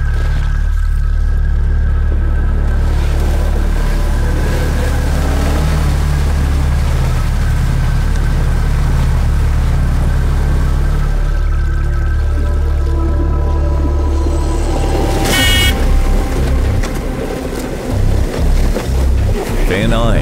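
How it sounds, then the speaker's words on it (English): A Ural truck grinds over frozen ice in Yakutia at -50°F, a loud constant low engine rumble and scraping, rising into harsher crunching and knocking near the end. "Ural rides like an icebreaker."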